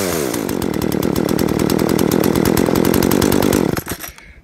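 A Poulan Craftsman 4218 chainsaw fires on a warm start and runs loud and close at a high buzzing rev for a few seconds, then cuts off abruptly into quiet.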